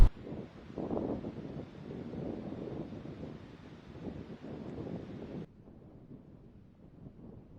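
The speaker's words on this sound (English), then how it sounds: "You can probably tell by all the wind noise." Strong wind buffets the microphone outdoors on a freezing night, a steady low rumbling roar that drops to a quieter gusting hiss for the last couple of seconds.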